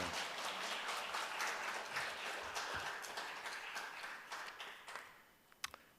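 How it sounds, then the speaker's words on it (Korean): A church congregation claps to welcome a missionary at a Friday late-night prayer meeting, a moderate wash of applause that gradually thins, ending in a few scattered, sharper claps. "할렐루야 뿐만 아니라 박수 치면서"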